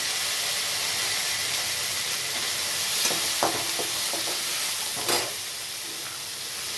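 Vegetables go into hot oil with softened onions and green chilies for a Chettinad tamarind curry, a steady loud sizzle with a few sharp clatters and stirring knocks near the end.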